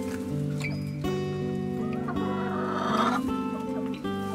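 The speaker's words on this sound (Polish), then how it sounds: "Grzeczne kury." Zielononóżka hens with coloured leg rings cluck and murmur up close in a coop, with drawn-out tonal calls that rise and fall over several seconds.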